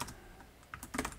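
Brief bursts of typing on a computer keyboard while coding in Python: a few close, crisp key clicks with a short pause between them, clear in a quiet room.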